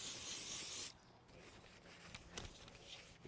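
A brake cleaner spray hisses loudly onto a Nissan Altima's front brake rotor and then cuts off. Quieter rubbing and wiping sounds follow as a rag works over the metal surface.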